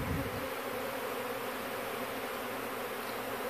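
A swarm of honeybees buzzes steadily during a removal from a mobile home in Florida, a dense, continuous hum that stays close and loud throughout with no talking.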